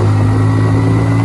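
A Hero Passion motorcycle engine running steadily up close, a loud continuous low mechanical drone with no talk over it.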